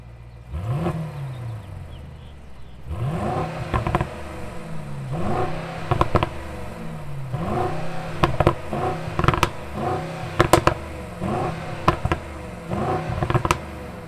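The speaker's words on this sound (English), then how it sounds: "let's hear the GLE 63S punch it a couple times" Twin-turbo V8 of a 2021 Mercedes-AMG GLE 63 S revved repeatedly while parked, several sharp rising blips over a steady idle, loud and close with crackling pops between revs.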